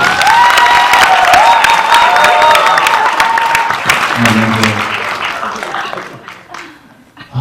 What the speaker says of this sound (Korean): 여러분 큰 박수.